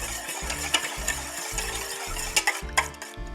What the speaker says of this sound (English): it's important to really whisk it so that the egg gets well incorporated into the mixture